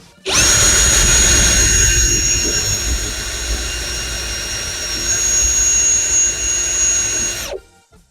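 A power drill with a dull bit whines steadily for about seven seconds, loud and close, with a high grinding tone as it works into a window frame, then stops.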